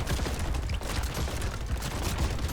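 Rapid, dense gunfire from the video game Brotato forms a continuous crackling barrage of overlapping shots, loud and unbroken throughout.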